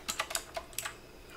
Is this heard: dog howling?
no